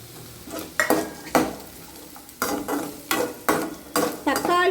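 Carrots and beans stirred and fried in a pan for egg veg Maggi, with a sizzle under repeated loud scraping strokes of a utensil against the pan, close and without talk.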